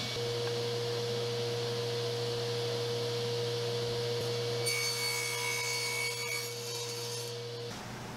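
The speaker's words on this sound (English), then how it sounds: "Now using the miter sled, I'll square up one end and flip and cut the other end to the final length that I need." Table saw crosscutting boards to length on a miter sled: a steady motor hum runs throughout, and the blade's rougher, brighter cutting noise swells midway before fading as the cut ends, with no voices.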